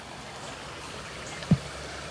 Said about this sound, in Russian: речки текут.